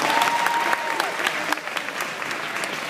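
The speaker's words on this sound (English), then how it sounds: "So let's give Reba a round of applause." An audience applauds a student named Reba as she comes down during a Q&A session, a moderate burst of clapping with distinct nearby claps over a steady patter that thins slightly.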